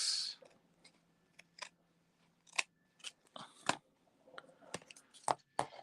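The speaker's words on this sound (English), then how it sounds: "I'm going to take my scissors and chop this." Scissors chopping through material in a craft session, giving scattered crisp snips and clicks, some close together and some spaced apart, near and fairly quiet.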